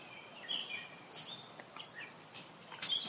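Birds chirping in a backyard, a few distinct tweets and short call phrases spaced out over a quiet background, moderately close but soft, with no talking.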